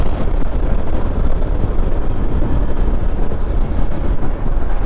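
A Hero Xpulse 200 Pro motorcycle with a 4-valve engine and 5-speed gearbox on a test ride, producing a loud, steady low rumble blended with heavy wind buffeting across the microphone.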